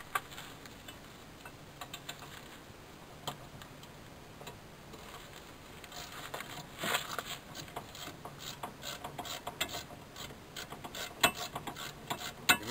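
A socket ratchet tightening brake caliper bolts on a 1994 Cadillac DeVille, giving a fast, quiet clicking that grows denser and busier toward the end, heard close up with no voices.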